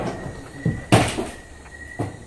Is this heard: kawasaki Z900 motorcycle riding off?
no